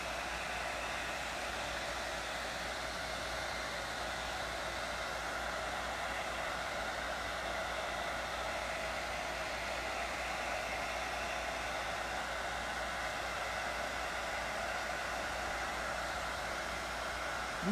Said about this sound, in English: Now remember to always blow down with the hairdryer.